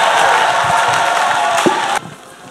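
A church congregation cheers and whoops during a clap offering, a loud, dense crowd roar with clapping that drops off abruptly near the end.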